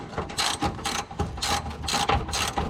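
A ratchet wrench tightening bolts on an abandoned junkyard Chrysler 300 project car, giving several loud, close bursts of rapid clicking in an uneven rhythm.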